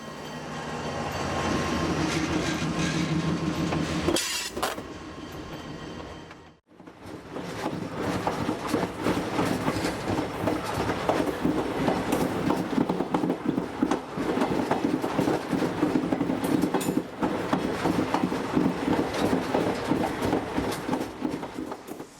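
A Texas State Railroad train rolling past, loud and continuous, with steady clickety-clack of wheels on rail and faint squeals, a brief dip in sound partway through, no voices.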